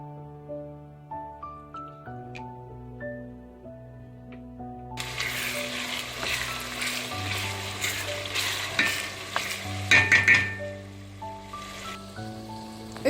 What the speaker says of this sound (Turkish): Şimdi hakiki zeytinyağımla kavuracağım arkadaşlar.